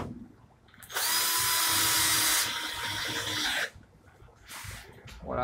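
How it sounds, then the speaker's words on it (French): A power drill drives screws into a wooden workbench frame, a loud steady whine lasting under three seconds with a pitch change partway through, then quieter handling noises. "Et je peux donc visser et coller."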